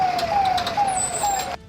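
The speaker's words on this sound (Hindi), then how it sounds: "तुरंत फायर ब्रिगेड की गाड़ी पहुंच गई।" A fire brigade truck's siren wails in a steady repeating tone as it arrives at a brush fire, loud and fairly close over vehicle rumble, then cuts off abruptly.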